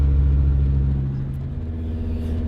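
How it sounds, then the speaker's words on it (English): A Sprinter van engine strains with the pedal floored as it climbs a hill slowly, a loud, steady low drone and rumble that eases only slightly, heard alone without talk. "I can barely accelerate up this hill. Look at that. My pedal is to the metal."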